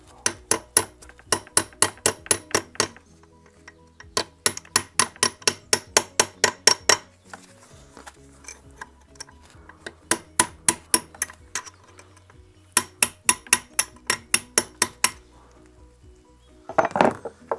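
Rapid metallic hammer strikes ring out in bursts of many quick blows, pausing briefly between sets, loud and close.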